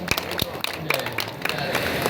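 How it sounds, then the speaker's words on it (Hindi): Faint audience clapping for the poets at a kavi sammelan during Ganesh Mahotsav at Chomuka Mahadev temple, Merta City: scattered sharp claps throughout, partly under a speaking voice. "एक बार इन सभी कलमकारों के लिए आपकी जोरदार तालियां बनती हैं"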